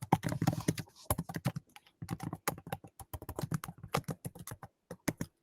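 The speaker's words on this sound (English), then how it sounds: "Somebody's got incredibly loud typing." Loud, rapid clacking of a computer keyboard being typed on, crisp keystrokes in quick irregular bursts close to the microphone.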